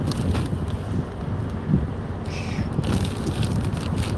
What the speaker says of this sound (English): A lot of it is the wind I'm dealing with out here.